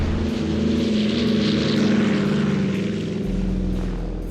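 Propeller aircraft of the Berlin airlift drone overhead in a loud, steady, throbbing roar with a slowly shifting pitch as they pass.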